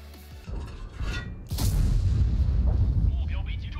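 A tank cannon fires in World of Tanks, a loud booming shot with a heavy low rumble that carries on after the blast, with a smaller thump just before it.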